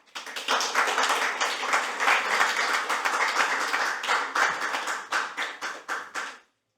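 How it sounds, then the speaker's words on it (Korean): An audience at a legislative debate forum claps to welcome a presenter. The applause is steady and dense, then thins into scattered separate claps before stopping abruptly into silence. "박수로 맞이해 주시기 바랍니다."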